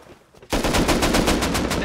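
Rapid automatic gunfire erupts in the video game Rust on a 10X server, a loud, fast burst of evenly spaced shots that starts abruptly after a brief quiet moment and runs continuously to the end.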